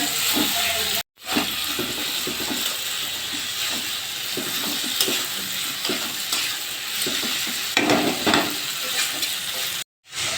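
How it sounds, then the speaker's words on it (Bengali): Mashed banana flower being stir-fried with spices in a pan, a steady dense sizzle with scraping stirs throughout, close and fairly loud, with two brief silent breaks. "ম্যাশ করে রাখা মোচাটা আগে দিয়ে দেব, তারপর মশলার সঙ্গে একটু ভালো করে কষিয়ে নেব"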